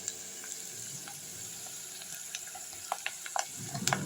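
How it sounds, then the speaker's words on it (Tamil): Chili powder and onions sauté in hot oil in a pan for a tangy egg gravy. A faint, steady sizzle hisses close by, with scattered soft stirring clicks growing busier toward the end and no talk. "அந்த எண்ணெயில் மிளகாத்தூள் எடுத்து போடுவோம்"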